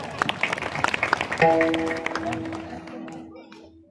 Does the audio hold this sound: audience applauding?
yes